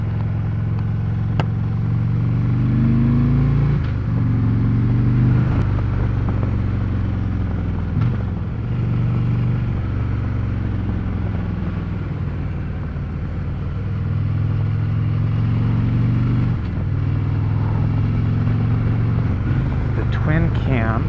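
A Harley-Davidson Road Glide Ultra's Twin Cam high-output engine rumbles steadily while riding, a deep continuous drone with occasional shifts in pitch, someone talking over it throughout.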